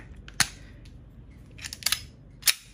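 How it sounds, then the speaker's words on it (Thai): An EKOL M92 blank pistol, a Beretta M92-style gun with semi and auto modes, fires with a sharp, close crack early on. Several fainter mechanical clicks and another sharp snap follow against a quiet background. "เดี๋ยวเรายิงที่ตัว F ก่อน ทีนัดก่อน ยิงไปก่อนหนึ่งนัดนะฮะ"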